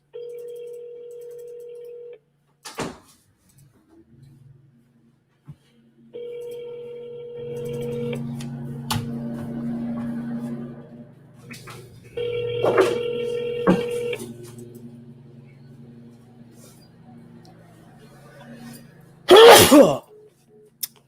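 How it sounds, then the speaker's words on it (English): A phone line rings in steady electronic tones with pauses between them, a sharp burst near the end, and no talking. "Looks like it's not ringing. There we go."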